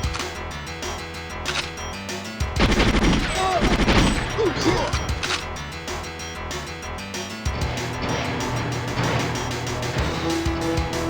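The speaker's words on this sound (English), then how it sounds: "He just threw a grenade." Explosions and rapid gunfire crackle through a firefight in the video game GoldenEye 007, with a loud burst mid-way amid continuous shooting and game noise, while a player talks over it.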